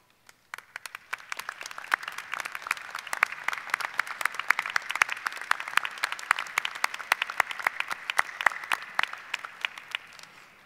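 Family and friends standing at a university graduate commencement ceremony give sustained applause, a dense spread of many hands clapping that swells in and holds steady for about ten seconds in a large hall.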